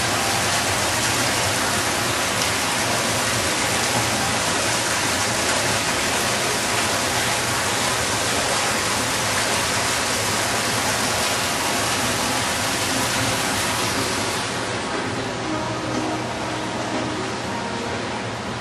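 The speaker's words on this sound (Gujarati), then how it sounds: "વરસાદ છે" Steady rain pours down in a dense, unbroken hiss that stays loud throughout and eases only slightly toward the end, with no voices.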